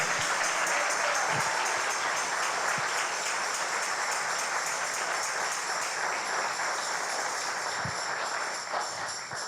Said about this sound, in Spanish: Dale esa ofrenda de aplauso al Señor.